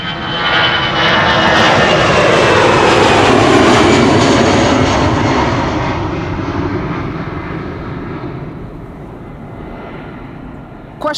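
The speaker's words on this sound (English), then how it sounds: "And this is EasyJet flight 23302 to Edinburgh" An EasyJet jet airliner departs Amsterdam Schiphol for Edinburgh, its engines a loud, broad roar that builds early, holds, then slowly fades into the distance, ending with a short sharp noise.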